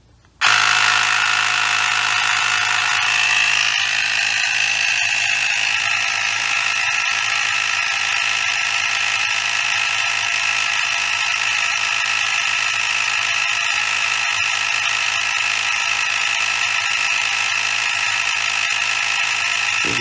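An AIRMOTO BP198 cordless air pump inflates a big tire, giving a steady, loud, continuous mechanical whir with a high whine that starts abruptly and runs unbroken, alone without talk.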